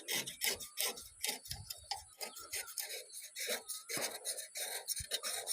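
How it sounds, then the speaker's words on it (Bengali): Dirt is rubbed and scraped off the cylinder liner of a power tiller engine in a series of close, quick, uneven scrubbing strokes. "এখন আমরা এভাবে ঘষে লাইনার দেখতে হবে, এখানে কিন্তু ময়লা জমে থাকে।"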